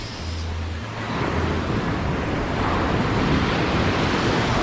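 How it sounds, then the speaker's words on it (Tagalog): Sea waves wash onto Patitinan White Beach in Sagnay, Camarines Sur, a continuous broadband surf roar, close and loud, mixed with gusty wind buffeting the microphone and no talking. "Ito yung background ng dagat."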